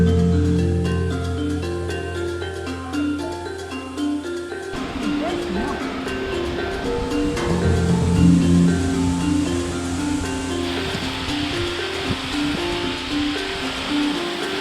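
The Radime mountain waterfall, flowing less fully than usual, roars as a broad steady rush close by beneath a via ferrata route. People talk over the water noise.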